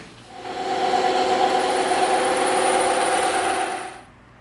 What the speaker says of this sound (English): So let's get these edges cleaned off first on the bandsaw.